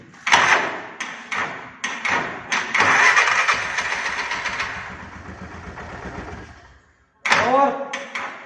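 A cold tuk-tuk engine catches after a few short cranking bursts and settles into a loud, close mid-pitched idle, cuts out, then fires again with more sharp bursts, while someone talks over it.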